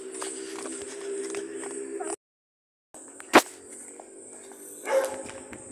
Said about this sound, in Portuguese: Agora ele tá latindo ali